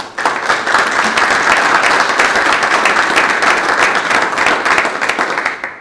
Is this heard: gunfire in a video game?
no